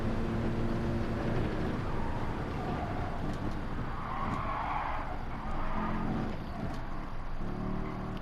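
A Mercedes-AMG GT3 '16 race car in Gran Turismo 7 at the Nordschleife, its tires squealing and skidding under a steady engine roar, loud and continuous with no voices.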